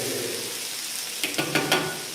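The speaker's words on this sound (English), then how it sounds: "Listen to that sizzle." Onions fry in hot oil for hamburger sliders, a steady close sizzle that briefly flares with a few louder crackling bursts as they hit the pan.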